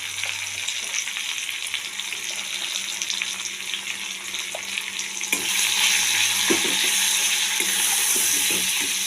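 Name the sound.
chili and cumin powder frying in oil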